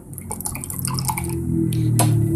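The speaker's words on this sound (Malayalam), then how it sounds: "ഒരു നാരങ്ങയുടെ നീര്." Lemon juice from one lemon drips into a glass of sugar water for jaljeera soda, a few light close drips followed by a rising ringing fill tone.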